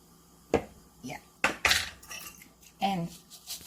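A spoon clinks and scrapes against a bowl while seasoning is mixed for a Korean spinach side dish: a few sharp metallic taps and scrapes spaced irregularly, close and fairly quiet.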